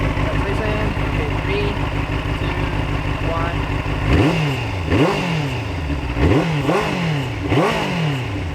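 A 2023 Benelli TNT600i four-cylinder motorcycle idles steadily, then revs sharply several times, each blip rising and falling quickly, close and loud.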